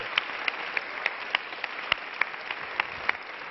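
Audience applause at an award ceremony for women entrepreneurs at the United Nations: a sustained, moderately close wash of clapping with a few sharper individual claps standing out, no talking over it.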